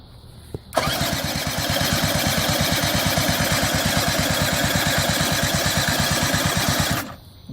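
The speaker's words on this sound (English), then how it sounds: "then we're going to hit the starter button and see what we get." A 50cc ATV quad engine turns over on its electric starter in a long, steady run of rapid, even cranking pulses, loud and close, without settling into a running idle before it stops.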